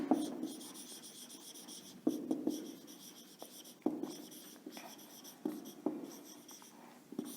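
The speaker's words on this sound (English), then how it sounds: "So here I am writing" A teacher writing notes for a lesson produces close, scratchy strokes in repeated bursts, each starting with a sharp tap and trailing into steady rubbing, with brief pauses between strokes and no speech.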